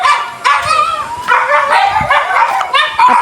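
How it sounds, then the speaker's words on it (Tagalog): Several dogs bark and yip close by in quick overlapping bursts, loud and excited, with a few whimpering, whining notes between barks. "Apat na ido yan guys."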